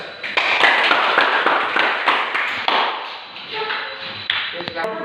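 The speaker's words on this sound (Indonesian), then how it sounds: "Oke, berikan aplaus." Applause from a classroom audience, a dense run of many hand claps spread across the room that goes on for several seconds and then thins out into scattered claps.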